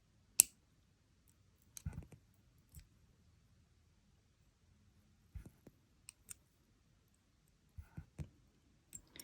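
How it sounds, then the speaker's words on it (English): Jewelry wire is wrapped twice around a loop with bent chain nose pliers, giving faint, sparse metallic clicks and ticks separated by near silence. "come in with our bent chain nose pliers, and we're going to wire wrap around 2 times"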